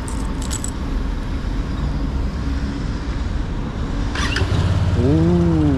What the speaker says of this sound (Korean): 이제 대망의 시동을 걸어보는 시간이다